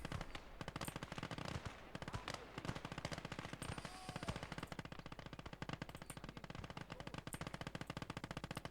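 A T-34 tank in the war game Call to Arms: Gates of Hell fires its machine gun in long rapid bursts, a dense rattling stream of shots that carries loud through the whole stretch amid other battle noise.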